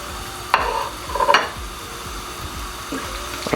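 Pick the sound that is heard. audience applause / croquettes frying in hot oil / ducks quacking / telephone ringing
croquettes frying in hot oil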